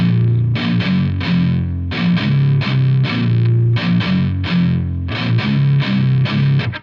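Heavily distorted electric guitar chugs a repeating riff from a song, open string followed by fretted notes, in tight rhythmic bursts with short gaps, looping four times; loud, close and without talk.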